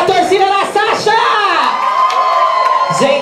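A crowd at a Miss Drag Queen pageant in Mogi das Cruzes cheers, whoops and shouts for a contestant. The sound is loud and close, with shrill voices rising and falling continuously.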